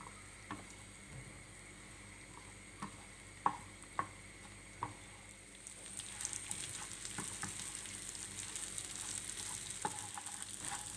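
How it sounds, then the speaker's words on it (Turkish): Oil crackles and sizzles steadily as bread fries in a pan for tomato soup, with a few sharp pops early on before the frying grows louder and denser. "Ekmeklerimi kızartacağım yağda."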